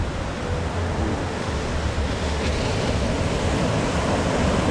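Continuous roar of ocean surf, waves crashing and washing in a dense, steady rumble, moderately loud with no voices.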